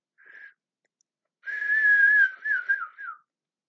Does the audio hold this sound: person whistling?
yes